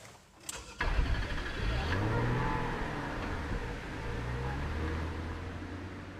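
A 1999 Rover 75 with the 2.5 litre KV6 engine pulls away from a stop, a soft engine note that rises smoothly through the revs after a short click, heard from inside the car and fairly quiet.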